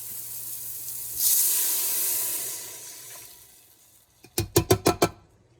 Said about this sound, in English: So we're gonna add our broth to the pot.